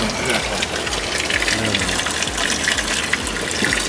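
Water gushes steadily from a public drinking fountain, a constant broadband splashing that runs close and fairly loud, with faint voices nearby.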